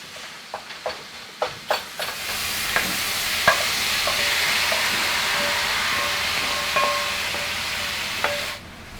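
Food fries and sizzles in a number 12 cast iron skillet, opening with several sharp clanks of a utensil against the pan, then a steady loud hiss with occasional scrapes and taps, ending abruptly.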